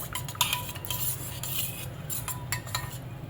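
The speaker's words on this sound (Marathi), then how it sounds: "थोड्याशा ओल्या गुलाबाच्या पाकळ्या सुद्धा आपल्याला हे व्यवस्थित मिक्स करून घ्यायचं" A spoon stirs a thandai mixture with wet rose petals in a metal vessel, making close scraping and clinking strokes with a soft wet swish, in an uneven rhythm and with no talking.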